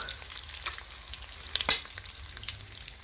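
Onions and ginger paste frying in pork oil, a close, steady sizzle with scattered pops and a brief sharp crackle burst midway, no voices.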